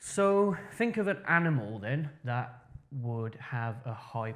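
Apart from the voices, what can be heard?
No distinct noise like a dog, phone or traffic.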